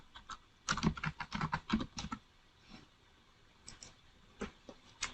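Keys clatter on a computer keyboard while text is entered into an Excel spreadsheet, a quick burst of close taps followed by scattered single keystrokes, with no talking.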